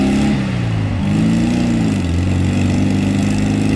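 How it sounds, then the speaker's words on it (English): Volkswagen Beetle engine running on a dyno at an import car event, a loud, steady low rumble with a wavering pitch as revs dip and climb slightly, and no talking. "It's a Beetle engine all day."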